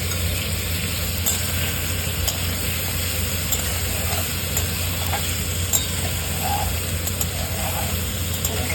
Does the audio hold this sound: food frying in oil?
yes